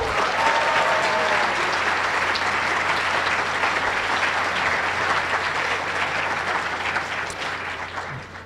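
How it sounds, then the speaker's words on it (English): A large audience at a white coat ceremony gives a loud, sustained round of applause that fills the hall and eases off slightly near the end. "I would like to invite you all to give yourself a second round of applause."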